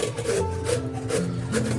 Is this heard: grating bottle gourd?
yes